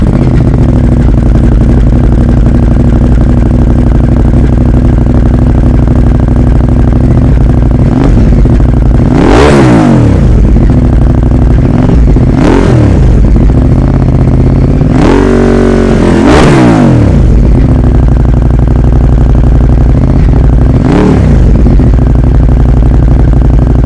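A 2020 Ducati Monster 821 with a Termignoni exhaust idles with a deep, loping burble, then gets blipped in several sharp revs that climb and fall back, loud and close throughout.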